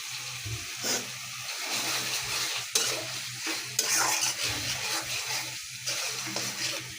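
Spice masala for chicken khichuri fried until the oil separates, with continuous close sizzling and repeated scraping stirs of a spatula against the pot.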